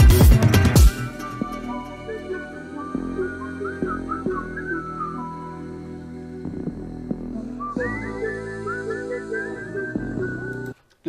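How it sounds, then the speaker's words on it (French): A whistled melody closes an instrumental song, bright sliding whistle phrases over sustained guitar and bass chords, loud and clear with a pause midway before the whistling returns. "La fin est superbe avec le sifflet"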